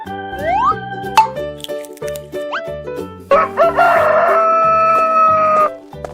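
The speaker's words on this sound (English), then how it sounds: "Rooster." A rooster crows a long, loud cock-a-doodle-doo over a playful children's melody, preceded by short plops and springy effects.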